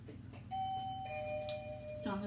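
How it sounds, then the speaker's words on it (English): A dog rings a floor-mounted indoor doorbell, producing a clear electronic chime of sustained ringing tones against quiet room noise, with a brief thump at the end. "It took us a year to train her to ring that bell when she needed to go outside."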